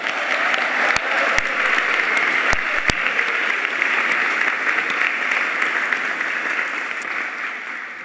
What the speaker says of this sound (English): Let's give a round of applause for our first years.